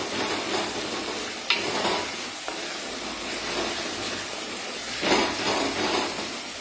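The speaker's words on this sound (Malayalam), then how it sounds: "ചതച്ച് വെച്ച ചെറിയ ഉള്ളി ഒന്ന് ഇളക്കി വഴറ്റുക" Crushed small shallots sauté and sizzle in hot oil in a pan with fenugreek, stirred now and then, making a steady close frying hiss with a few scraping stirs.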